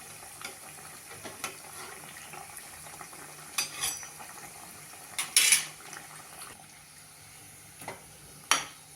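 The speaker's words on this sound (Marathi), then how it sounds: "पहिल्यांदा एकदाच तेल तापवून घ्यायचं आणि नंतर मिडियम गॅसवर आपल्याला ते डीप फ्राय करायचे" Bread spring rolls deep frying in hot oil over medium heat, a faint steady bubbling hiss punctuated by a few sharp clinks of utensils against the pan, with no voices.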